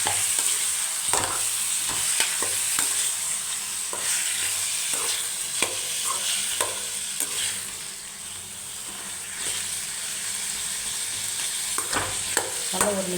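Chicken pieces with tomatoes stir-fried in a pan for chicken gravy, giving a steady close sizzle with repeated scraping and stirring clatter throughout, no voices.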